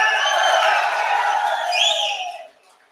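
A large crowd at a political rally in Dindigul cheers and applauds in a dense, continuous roar that holds steady, then swells briefly before fading out near the end.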